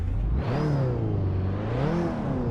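A racing car engine in the PC racing simulator Assetto Corsa revs hard, its exhaust note rising and falling in pitch across a continuous, loud, close roar.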